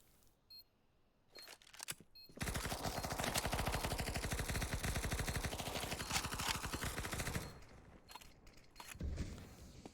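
Submachine guns in Counter-Strike on Dust 2 fire a long, rapid, sustained automatic burst lasting several seconds, loud and close, preceded and followed by a few short clicks and single shots.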